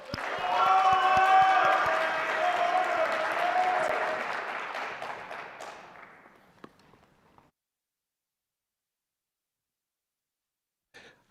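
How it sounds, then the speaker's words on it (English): Audience applause for a startup team at an MIT entrepreneurship competition rises at once, holds strong for several seconds, then thins out and fades to silence, followed by a faint brief sound near the end. "Please give me a round of applause for AutoLab."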